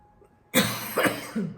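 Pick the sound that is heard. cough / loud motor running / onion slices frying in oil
cough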